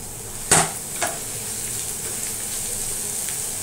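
Finely chopped kurdu leafy greens drop into a hot pan to stir-fry, setting off a sharp sizzle burst with a quick stir, then a steady frying hiss close by.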